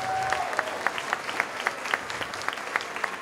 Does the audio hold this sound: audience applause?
yes